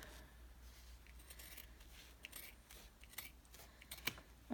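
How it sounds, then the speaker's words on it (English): Sewing scissors trimming through bulky layers of fabric for an in-the-hoop embroidered credit card wallet, giving faint, close snips and crisp clicks in an irregular series, with one sharper snip near the end and no talk. "it does go through this bulk a little bit better than my other scissors do"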